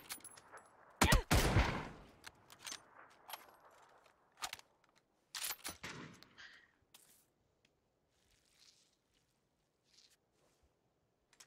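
Bursts of PUBG gunfire, several sharp loud shots clustered early and mid-clip, followed by quieter scattered pops and near-silence.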